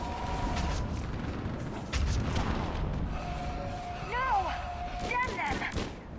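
Artillery fire support in Mass Effect 3, with dull booms and explosions underneath a busy game soundscape of whistling effects and sci-fi tones, partly masked by other sounds.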